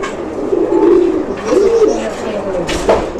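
Pigeons coo in a close, low, throaty series of rolling calls, several soft phrases back to back with voices talking nearby.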